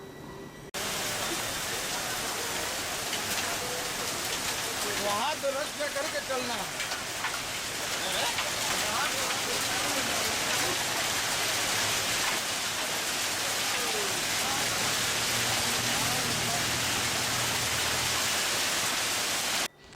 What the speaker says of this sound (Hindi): तेज बारिश के साथ जमकर बर्फबारी हुई